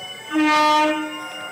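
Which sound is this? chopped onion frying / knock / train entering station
train entering station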